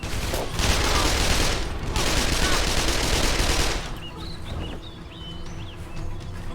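Bursts of gunfire in the video game Call of Juarez: The Cartel: two loud, dense volleys of rapid shots, then a quieter stretch with faint chirps and scattered lighter shots.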